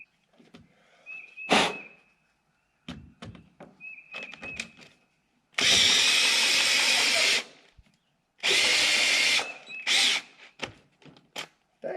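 A power drill bores through window framing with a drill bit in two loud sustained bursts, separated by clicks, knocks and handling noises close by.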